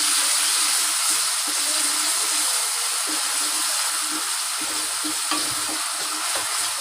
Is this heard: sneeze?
no